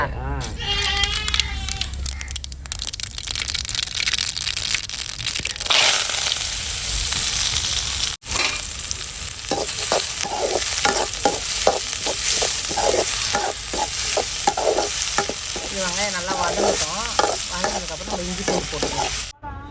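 Onions frying in hot oil with mustard seeds while being stirred, a loud crackling sizzle with repeated scraping strokes, under near continuous talking voices.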